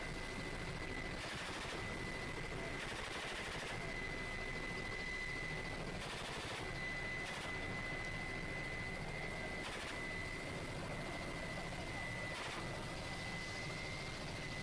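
A Russian military helicopter in flight while intercepting drones gives a steady, loud engine and rotor roar that runs unbroken throughout, with a constant high whine and faint periodic pulses.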